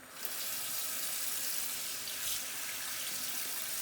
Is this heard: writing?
no